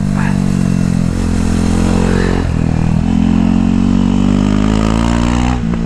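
A KTM RC 390 motorcycle engine roars at full throttle, a loud, close, continuous droning rev held steady with slight pitch shifts as the bike pulls through gears on a track.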